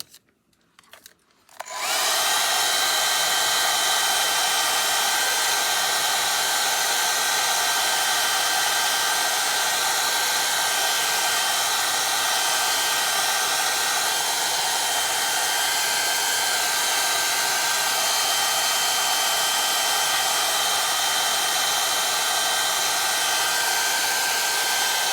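A hair dryer switches on after a brief quiet moment and runs steadily for a long stretch while drying a freshly made craft print, loud, close and unbroken.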